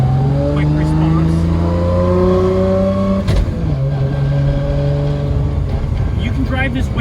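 A Nissan R32 GTR with a sequential transmission and light flywheel pulls away, its engine tone rising in steady harmonic steps, a brief shift-like break midway, then climbing again, loud and close.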